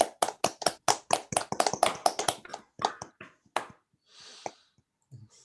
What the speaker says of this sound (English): So I'm just going to end this with some applause for Michael.